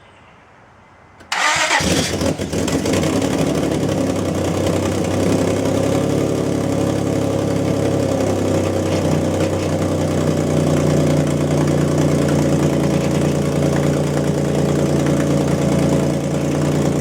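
After a short quiet start, the swapped engine in a 2004 Honda Pilot cranks and catches, then settles into a loud, steady idle that runs on without a break, close up.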